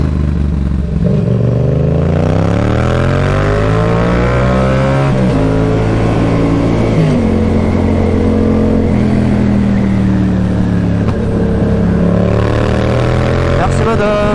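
A close Yamaha MT-07 2019 motorcycle engine revs up and down through rising and falling pitches, loud and continuous for the whole stretch.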